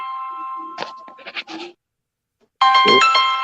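A phone rings with an incoming call: a steady electronic tone at the start, then a louder, brighter ringtone burst near the end, with casual voices chatting in between.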